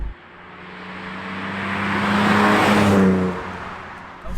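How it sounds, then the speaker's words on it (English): A BMW E34 M5's 3.6L engine and exhaust while driving, a steady loud drone that swells as it accelerates and then eases off, with no talk. "from here I can hear that exhaust more now"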